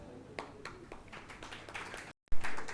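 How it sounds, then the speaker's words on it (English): Applause for a Rotary Best Mentor award winner at a ceremony, sparse individual claps from a smallish crowd that are fairly faint, cut off by a brief silence and then a louder burst. "Please give them a round, loads of applause."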